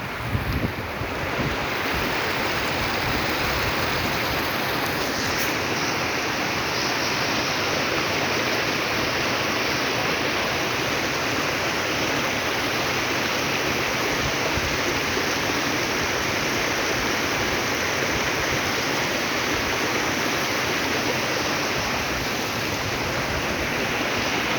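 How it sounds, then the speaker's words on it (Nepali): A river rushes steadily at Menthu Khola, a broad, loud wash of flowing water that holds constant throughout with no voices over it. "मेन्थुमा खोला भन्ने ठाउँमा आएको छु है"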